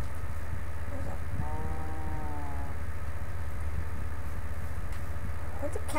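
A cow moos in Minecraft, a drawn-out lowing call rising over a constant low game hum and faint clicks, with a second, fainter call near the end.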